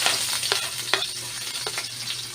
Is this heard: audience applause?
no